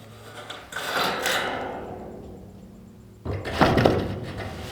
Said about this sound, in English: So I actually want to turn this sheet around here